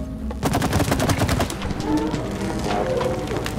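Rapid bursts of gunfire in the co-op video game It Takes Two, dense repeated shots with busy game effects throughout, loud and continuous.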